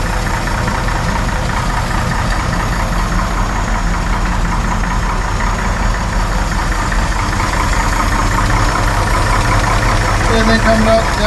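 A 1963 Chevy 4x4 truck engine runs at a steady, rough idle, loud and close and holding even throughout, with a faint knocking texture underneath.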